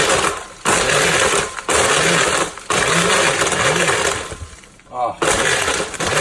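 A kitchen blender pulsing on low while blending margaritas with lime juice, giving several short whirring bursts separated by brief pauses, loud and close.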